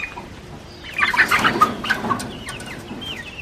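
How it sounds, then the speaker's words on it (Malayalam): Young chickens in a backyard coop, some ten to twenty-two chicks, cluck and chirp in a lively cluster of calls that swells mid-clip, with a few wing flaps and higher peeping calls near the end. "നമ്മുടെ കോഴിക്കൂട് കണ്ട ഇതിൽ ഒരു 10-22 കോഴി കുഞ്ഞുങ്ങളുണ്ട്."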